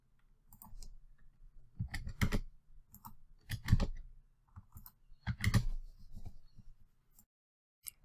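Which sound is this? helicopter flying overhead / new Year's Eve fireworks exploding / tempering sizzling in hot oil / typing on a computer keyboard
typing on a computer keyboard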